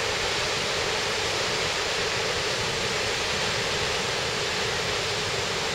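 Mae Surin waterfall in Thailand pours in a steady, dense roar of rushing water, loud and continuous with no voices.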